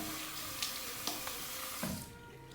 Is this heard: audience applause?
no